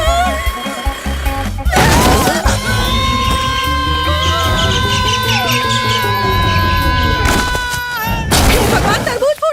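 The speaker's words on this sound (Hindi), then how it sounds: "भगवान, तरबूज फूट गया।" A watermelon smashing and bursting open with loud crashing impacts near the start and end, amid loud screaming and yelling voices throughout.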